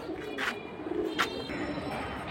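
Pigeons cooing softly at a pigeon market where fancy breeds such as silver tota, baghha, military and jabra pankhi are shown, a few low coos over a steady crowd murmur.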